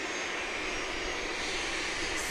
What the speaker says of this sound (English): No, this is a Bombardier Challenger